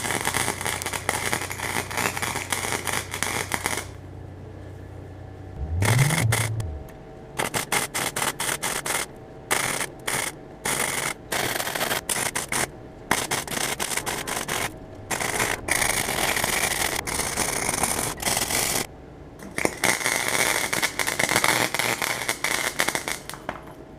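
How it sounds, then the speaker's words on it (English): Welding on a metal battery relocation box for a second-generation Eclipse, a steady harsh crackle and sizzle running through most of the stretch, broken by short pauses between beads and one brief low hum. "So now I'm going to get to welding."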